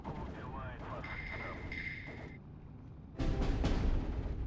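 Maxim machine gun fire in the WWII strategy game Steel Division 2, a dense crackling burst of shots that starts late and follows a stretch of softer battle noise.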